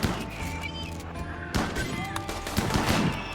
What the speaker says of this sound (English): So I'm just gonna mag dump it then.